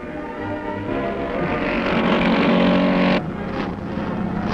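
Chevy-powered race car at the 1965 Pikes Peak hill climb, its engine a loud, steady roar that swells, then drops off abruptly partway through and continues at a lower level.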